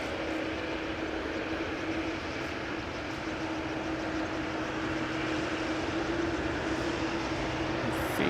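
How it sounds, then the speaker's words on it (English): A Delta Airlines A330 jet sits on runway 18C at Schiphol with engines running. It makes a steady, fairly faint hum with a tonal whine, at a distance and without voices. "Delta Airlines A330 lining up over here on 18C"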